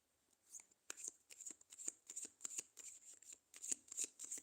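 Tarot or oracle cards shuffled by hand for a reading, a quick run of crisp, close riffling snaps at a steady rhythm, fairly soft overall.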